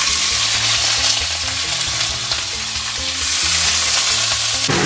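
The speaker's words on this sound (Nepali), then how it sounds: "अब त्यसमा हामी प्याज राख्दैछौँ।" Onions go into hot oil with cumin, cloves, cardamom and dried red chilli, bringing a loud, close, continuous sizzle with stirring and a surge of frying near the end.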